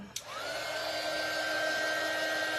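A hair dryer clicks on and runs steadily nearby, a loud even whirring blow used to dry chalk paint on wooden craft blocks, with no talking over it.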